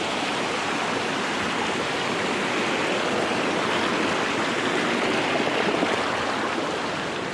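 Flowing mountain stream where fish are caught, a constant rushing and splashing of water heard close and steady throughout with no voices.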